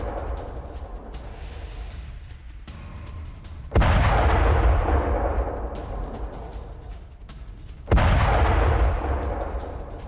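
Missile strike explosions in Tel Aviv, heard as two heavy booms a few seconds apart, each a sudden loud blast decaying into rumble over a continuous low background roar.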